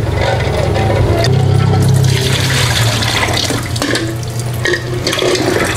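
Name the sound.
rinsing salted eggs under running water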